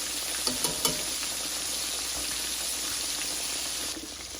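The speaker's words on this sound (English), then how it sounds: "as you can see, it's frying very nice and slow now." Pork chops frying slowly in a pan over medium-low heat with a steady sizzle and soft crackling, a few small pops near the start.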